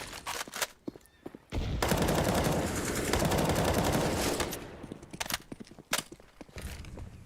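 Gunfire in the video game CS:GO on the Inferno map during a pro match, with sharp single shots giving way to a dense, sustained burst of automatic fire in the middle, then scattered shots again, and no voices.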